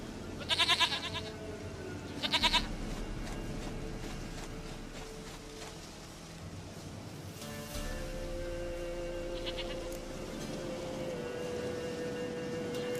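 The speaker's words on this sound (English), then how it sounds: "Goat of mine! Dearest, sweetest goat!" A goat bleats in The Witcher 3: two sharp, nasal bleats close together near the start, then a quieter game ambience with a later soft tonal shift, no talking.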